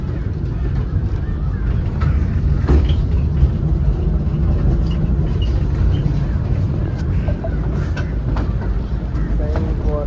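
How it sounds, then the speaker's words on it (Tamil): A steady rumbling clatter of the Ooty toy train rolling slowly along continues throughout, with faint voices and occasional squeaks in the background. "ட்ரெயின் போகிறது"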